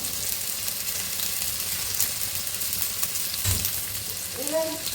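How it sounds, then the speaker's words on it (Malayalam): Onions and curry leaves sizzle steadily in a hot pan while being stirred, a continuous close frying hiss with occasional scraping of the spoon, and no talk. "നമുക്ക് നന്നായിട്ട് ഇളക്കി മുപ്പിച്ച് കൊടുക്കാം."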